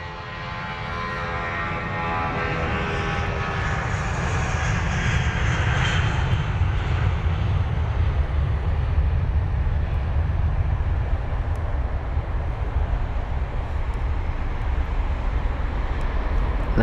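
An Air Serbia A320 jet roars on its takeoff roll at full throttle at London Heathrow, a loud, steady engine rumble building and holding throughout, with a rising whine early on.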